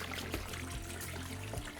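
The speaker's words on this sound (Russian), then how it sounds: "Вот так заливаю водой все." Water is poured over chicken feet in a pot for a traditional aspic, a faint, soft trickling pour running steadily through the short stretch with no talk.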